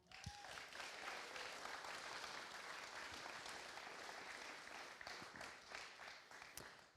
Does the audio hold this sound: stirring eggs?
no